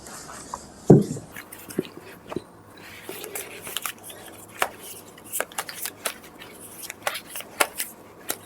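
A deck of tarot cards is shuffled up close during a reading, a soft series of riffling flicks and papery taps in uneven bursts over a quiet room.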